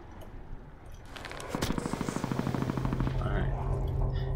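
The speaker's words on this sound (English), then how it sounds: "He's getting shot at." Rapid automatic gunfire in the Call of Duty Blackout video game rattles in a dense, steady burst that starts after a quieter stretch and continues to the end, with voices talking underneath.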